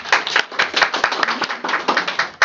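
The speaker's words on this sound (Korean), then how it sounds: "우리 박수로 한 번 환영해 주실까요?" Lecture attendees at a Korean writing seminar clap in welcome, a close, lively burst of many individual hand claps in quick uneven rhythm.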